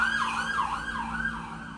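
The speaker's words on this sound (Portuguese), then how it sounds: "Momento ambulância." An ambulance siren wails in a slow rising-and-falling cycle as it passes, steady and fairly loud against low traffic rumble, with no one talking.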